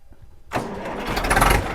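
A tractor at a village tractor fair in Farwahi fires up after half a second of near-silence, then settles into a loud, close, rumbling idle. No one speaks.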